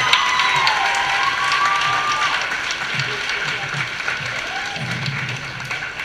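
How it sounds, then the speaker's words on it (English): Audience at a school talent show clapping and cheering in a large room, steady dense applause for several seconds with scattered shouts, a voice briefly audible over it. "Mr. Hinton, everybody give him a big round of applause."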